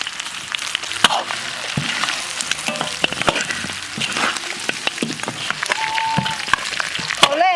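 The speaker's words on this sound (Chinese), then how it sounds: "料头炒香以后倒入驴排，少来点盐、辣面、孜然、" Donkey ribs stir-fried in a wok with salt, chili powder, cumin and sesame, a steady crackling sizzle broken by scraping and clanking of the spatula against the pan, no voices.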